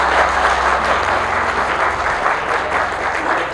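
Loud, sustained applause from an audience at a Hindi-language public gathering, dense clapping filling the whole stretch without a break.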